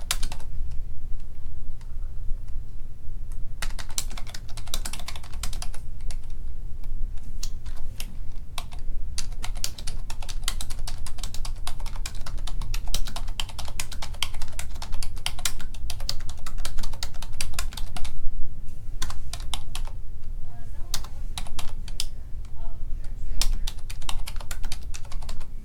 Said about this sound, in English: now we're going to type in the y values.